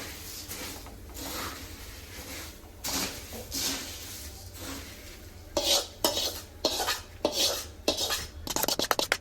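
Puffed rice churumuri is tossed and mixed with a little oil in a bowl, giving scraping, rustling stirs that are soft at first and then grow into quicker, louder strokes near the end.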